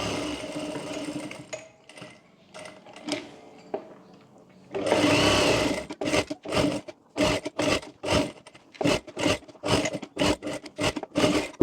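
A sewing machine stitching a blouse runs steadily for a while, then starts and stops in short rhythmic bursts of fast whirring needle strokes, fairly close and loud.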